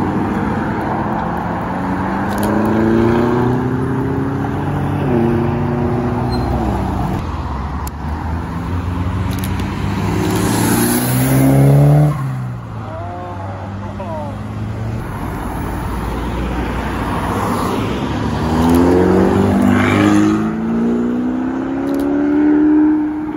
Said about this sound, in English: Dark blue Urus and it's going away.